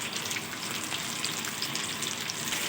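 Lake fish, coated in masala, frying in hot oil in a home kitchen, giving a steady, dense sizzle and crackle that runs unbroken and fairly loud throughout, with no voices.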